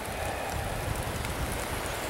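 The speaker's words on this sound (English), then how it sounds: "The rain's picking up again" Steady rain falling through a forest along a creek trail, a dense, even patter on leaves and ground that fills the whole stretch with no talk.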